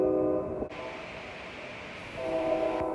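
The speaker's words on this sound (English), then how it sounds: "So here it was, Amtrak, train number 528, Capital Quarter." Amtrak train number 528, the Capitol Corridor service, passing through Oakland with a steady rumble and a loud horn-like tonal blast at the start and again near the end, no talk.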